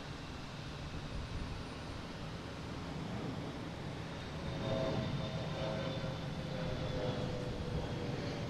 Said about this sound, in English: We got Southwest coming in. From St. Louis, a 737.